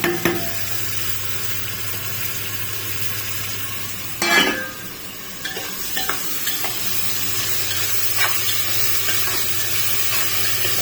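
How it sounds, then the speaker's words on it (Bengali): Tomatoes drop into onion and garlic browning in a pan, setting off a burst of loud sizzling that settles into steady frying with scattered utensil scrapes and stirring. "যেহেতু পেঁয়াজ রসুনটা বাদামি কালার হয়ে আসতেছে, এখন আমরা টমেটোটা দিয়ে দিচ্ছি।"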